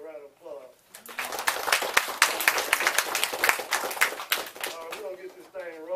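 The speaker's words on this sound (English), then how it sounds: "So everybody give yourself a round of applause." Audience applause at a community meeting, a burst of dense clapping rising after someone speaks and fading as his voice returns, moderately close.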